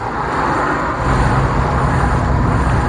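Dense road traffic rumbles continuously, a broad low roar of engines and tires with no pauses.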